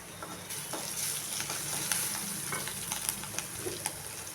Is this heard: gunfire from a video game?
no